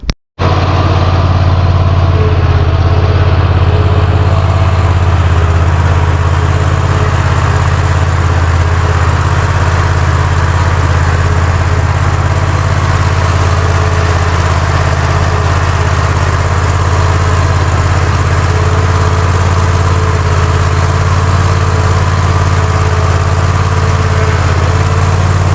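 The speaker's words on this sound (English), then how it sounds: "We're officially on the mower. So let's take it for a ride." Engine of a riding zero-turn lawn mower running steadily under load, a loud, constant low hum and drone that holds unchanged from start to finish with no talking.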